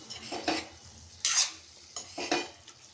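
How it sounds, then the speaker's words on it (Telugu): A broad bean, potato and tomato curry being stirred in a pan, with a few distinct scraping and clinking strokes of the utensil against the metal, close and fairly quiet, with a soft sizzle underneath and no talk. "ఇలా కూరను మొత్తం కలిపేసేయాలి ఈవెన్గా కలుపుకోవాలి"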